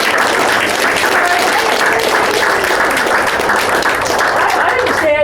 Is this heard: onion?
no